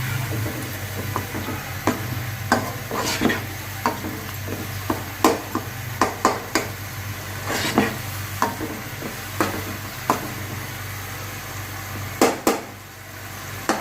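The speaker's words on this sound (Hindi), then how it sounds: "अब इन इंग्रेडिएंट्स को हम बहुत अच्छे तरीके से फ्राई करूँगी।" Yogurt and spiced ingredients for vegetable rice fry in a pan, a steady low sizzle running underneath while a spoon scrapes and stirs in sharp, irregular clicks and knocks against the metal throughout.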